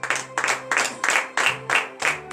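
A congregation at a morning prayer service in Comè, Benin, claps together in a steady, even rhythm of sharp bursts about twice per second, fairly close.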